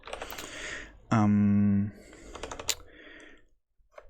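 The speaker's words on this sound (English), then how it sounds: "Do let me know if the keyboard is like way too loud and too distracting" Mechanical keyboard keys with Cherry MX Brown switches clatter in quick bursts of typing, alongside a person talking and a brief sustained tone.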